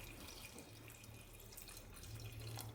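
Water is poured into a pot of cut drumstick pieces for drumstick soup. The trickle and splash are faint and steady, and no one speaks.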